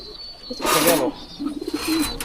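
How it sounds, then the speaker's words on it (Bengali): Green-necked pigeons in a loft of racing and breeder birds give soft, low cooing calls, a few short phrases close by over some rustling and background noise. "এগুলো কি কবুতর এগুলা সবুজ গলা বাঘা"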